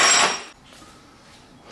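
Metal tire spoons clink and scrape against the rim of a Cub Cadet tractor wheel while the bead is worked loose, a bright clatter up front fading to quiet handling noises.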